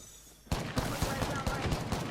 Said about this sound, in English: so there's obviously someone over there being shot at.